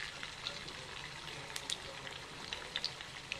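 Sliced ivy gourd frying in hot oil in a pan, a soft steady sizzle with faint scattered pops and crackles, quiet and alone.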